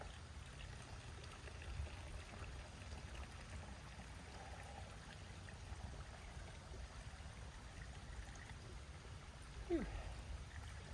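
Water flows along a stream beside the Appalachian Trail on a stretch of steep ups and downs, a faint, steady rushing and trickling that continues throughout, with a small bump near the end.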